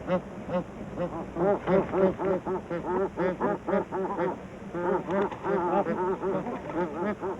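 Rare birds call at their breeding site on Bar Island in Ladakh: a loud, close series of rapid, nasal honking and quacking notes, repeated in quick bursts with only short pauses and no talking.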